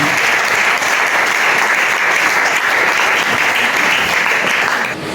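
Audience applauding at an evening gathering, with dense, loud, sustained clapping that carries on evenly for several seconds and drops off slightly at the very end.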